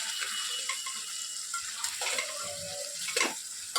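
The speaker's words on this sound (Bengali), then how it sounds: "এবার এই মশলাটা দিয়ে আবার এটাকে খানিকক্ষণ কষতে দেবো।" Masala with yogurt being stir-fried in a pan, a steady close sizzle of oil with scraping and stirring of a utensil against the pan, alone without talk.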